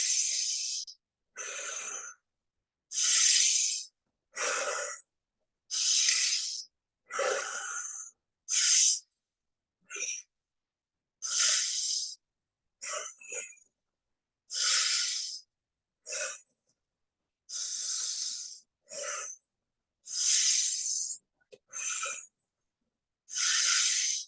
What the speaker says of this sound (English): Back into the deep breathing.